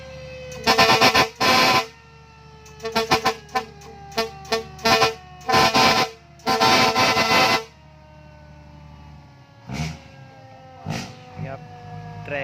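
Horn blasts from a six-wheel truck's air horn being tested, sounding as repeated loud bursts of varying length in two clusters, then fainter toots near the end with people talking in between.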